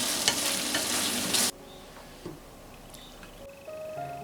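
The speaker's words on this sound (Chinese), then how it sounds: "搅拌搅拌就可以关火了。" Eggplant and shrimp stir-fry with starch slurry and sesame oil gets stirred in a pan, a loud close sizzle for the first second and a half, then quieter scraping and faint bubbling.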